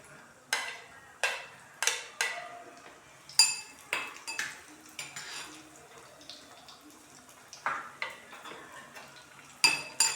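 Cashews frying golden in a pan as raisins are dropped in for payasa, with repeated clinks and scrapes of a metal spoon stirring against the pan and a faint sizzle underneath.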